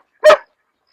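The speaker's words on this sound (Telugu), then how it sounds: "ఇతను India's #1 German shepherd V1 Casper black wolf Casper sun" A German shepherd at a kennel in Hyderabad lets out a single loud, close bark that lasts about a quarter second, with silence before and after.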